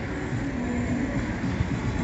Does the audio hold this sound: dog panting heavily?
no